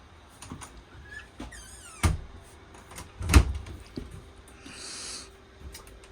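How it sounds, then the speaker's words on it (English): Someone shuts the bathroom door inside a 2015 Forest River Surveyor 245BHS travel trailer: faint creaks and rattles, then a solid thump in the middle and a softer knock after. "Go ahead and shut the door."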